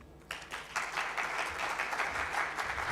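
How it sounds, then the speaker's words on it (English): Audience applause at a women's economic empowerment forum in Kenya, a steady wash of clapping from a sizeable crowd that starts abruptly and keeps going without any talk. "Let's give her another round of applause"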